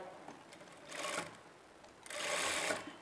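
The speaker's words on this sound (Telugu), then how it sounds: "ఇప్పుడు ఈ ఎక్స్ట్రా క్లాత్ని ఇలా ఫోల్డ్ చేసుకుంటూ చుట్టూ కూడా స్టిచ్ చేసుకోవాలి" A sewing machine stitches around a Punjabi dress neck in two short bursts of fast whirring, with a quiet pause between them.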